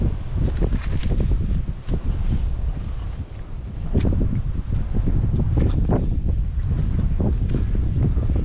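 Wind gusts outdoors at an open, breezy camping spot, buffeting the microphone in uneven rumbling surges that rise and fall throughout, loud and close, with no talking.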